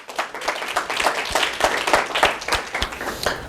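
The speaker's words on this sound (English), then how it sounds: "May I give yourselves a round of applause for being here." An audience at an inspirational talk gives itself a round of applause, a fairly close, uneven burst of many hands clapping with distinct individual claps audible through the roughly three-and-a-half-second stretch.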